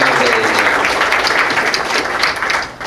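Audience applause for a panel at a discussion on Arctic transport technology: steady, dense clapping throughout, loud and close, with no speech over it.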